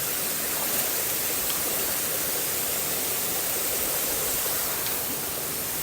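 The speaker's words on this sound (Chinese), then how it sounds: "我就是往那个第一层瀑布的里面走。" Wufengqi waterfall's first tier in Jiaoxi roars as a steady, dense wash of falling water heard up close from within the stream bed, unbroken and even throughout.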